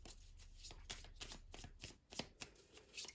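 Tarot cards being shuffled by hand, a soft papery riffling and slapping in quick irregular strokes, close and quiet with no talking.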